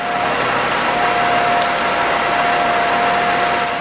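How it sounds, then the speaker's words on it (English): A Mercedes engine running at a steady idle during a transmission fluid and filter change, a continuous, even whir with a faint high whine and no talk. "I'm ready to start this vehicle. While the engine is running"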